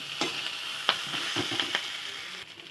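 A little water is added to kuche fish masala frying in a pan. A brief, fairly quiet sizzle carries a few sharp stirring scrapes and taps, with no voice.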